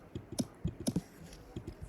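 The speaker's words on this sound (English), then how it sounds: "And it sounds like a click." A short gallop sound effect from Scratch, trimmed down to a single click, sounds as a quick series of faint, sharp taps in an irregular rhythm, close by and alone.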